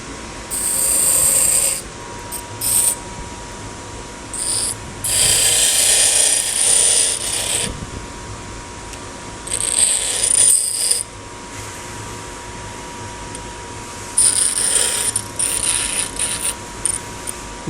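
Bench grinder taking the leftover metal pieces off an angle assembly, harsh high grinding in several separate bursts of a few seconds each with quiet gaps between, close and loud.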